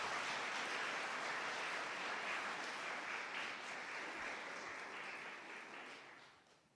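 A church congregation applauding together, a dense, even wash of many hands clapping that holds for several seconds, then thins and fades away at the end.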